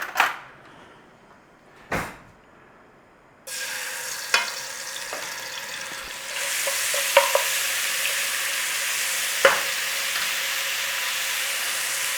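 Garlic and ginger hitting hot peanut oil, a couple of sharp knocks and then a sudden steady sizzle that swells louder, with occasional utensil taps against the pan.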